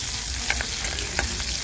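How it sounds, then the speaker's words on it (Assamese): Onions fry in hot oil in a wok, a steady close crackling sizzle broken by a few soft clinks as they are stirred, with no talking. "ইফালে কেৰাহীত মই অলপ সময় তেল গৰম কৰি পিয়াজ দি দিছো"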